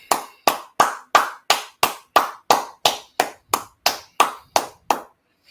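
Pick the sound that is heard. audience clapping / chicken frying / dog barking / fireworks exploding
audience clapping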